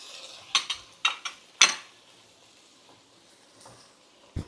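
A spoon stirs tomatoes with ginger and garlic in a pan, making a few sharp metallic clinks and scrapes against a faint background sizzle, then quieting to a soft fry with one last knock.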